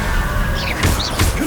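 Two quick blasting-curse explosions, Confringo, go off in the Hogwarts Legacy video game, short broadband bursts close together over a steady game-ambience bed.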